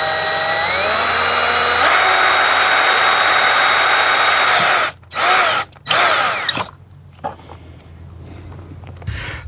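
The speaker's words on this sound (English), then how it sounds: "where you'll drill a 1/4 inch or 11/64 inch hole for the T-slot to go from here through the back" Power drill boring a 1/4 or 11/64 inch hole through a Starlink Mini pole mount for a T-slot, a loud steady whine that rises in pitch, then stops and restarts in a few short bursts before quieter clatter.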